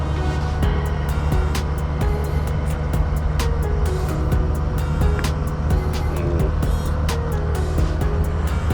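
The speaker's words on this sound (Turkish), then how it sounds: "Motor sesi, rüzgar ve ben." A Benda Rock 250 motorcycle engine drones steadily while riding along the Istanbul Bosphorus, with constant wind buffeting and a rhythmic ticking pulse, loud and close throughout.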